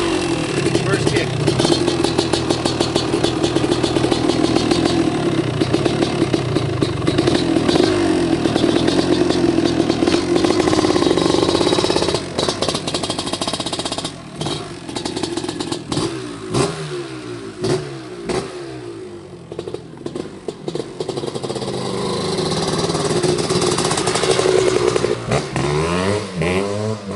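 A 1991 Kawasaki KDX250 two-stroke dirt bike runs close and loud, its engine droning and revving as it rides off, with pitch rising and falling through gear changes.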